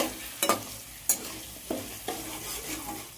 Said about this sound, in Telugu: మధ్య మధ్యలో ఇలా కలుపుతూ మంచిగా మామిడికాయ తురుము అనేది వేగనివ్వాలి.